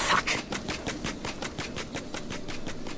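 A drone flies in Ghost Recon Wildlands with a steady, rapidly pulsing buzz that throbs several times a second and holds at an even level throughout.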